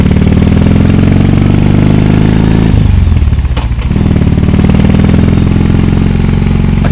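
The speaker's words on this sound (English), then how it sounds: "the pipes on this, I actually think they sound pretty good" A BMW R18 Roctane motorcycle engine rumbles loud and close through its exhaust pipes, a steady deep idle with a brief dip in the middle before settling back to the same throbbing beat.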